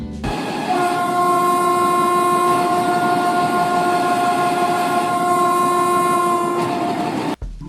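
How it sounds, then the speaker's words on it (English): The Kennywood Olympic bobsled flat ride sounds a loud, sustained air horn, a steady multi-tone blast lasting several seconds over rumbling ride noise, cutting off sharply near the end. "And let's not forget that air horn."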